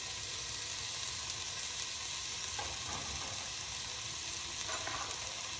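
Diced onions sizzle faintly in an enameled cast iron Dutch oven, a low steady hiss with occasional soft scrapes, no talking.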